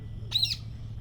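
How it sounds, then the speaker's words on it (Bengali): A sparrow gives a single brief chirp answering a pet parakeet, a short bright call in the middle against a quiet low hum. "ওর ডাক শুনে চড়াই পাখিতে ডাকতেছে"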